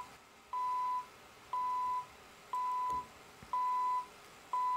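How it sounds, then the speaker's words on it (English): An alarm clock radio sounds its alarm as a steady series of single electronic beeps, about one per second, each held briefly and rising gradually in loudness with no talk over them. "I think this one is supposed to get progressively louder,"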